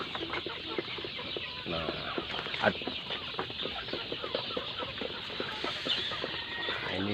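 Free-range village chickens cluck and chatter continuously inside a coop, many birds layered at close and middle distance, with a brief spoken word.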